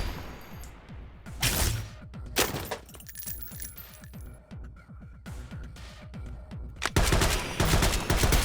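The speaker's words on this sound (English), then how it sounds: "Okay, he got his little flashbang off." A flashbang goes off among scattered gunfire in a video game, sharp broadband bursts and crackling impacts in uneven clusters, loud and close, followed by another heavy blast toward the end.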